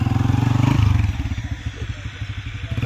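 A motorcycle engine runs near a wheat field in rural Azad Kashmir, with a loud, even throb that drops in pitch and turns into an uneven, pulsing chug after the first second. No one speaks.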